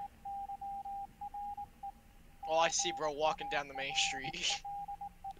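A steady single-tone Morse code beeping in Escape the Backrooms, short and long pulses repeating at a moderate level while someone talks over the middle of the sequence.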